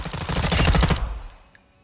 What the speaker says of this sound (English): At least it helps me with sustained fire.